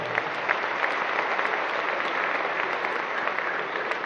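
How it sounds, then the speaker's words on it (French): The whole assembly at a graduation ceremony applauds, a steady wash of many hands clapping at an even level throughout. "soutenu par les applaudissements de toute l'Assemblée."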